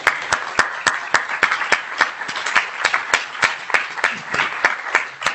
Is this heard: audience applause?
yes